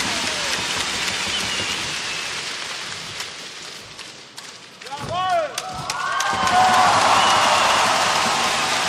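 A German crowd at a karate kata competition applauds in a dense patter that swells toward the end, with a commentator talking over it and a few sharp stamps or claps standing out midway.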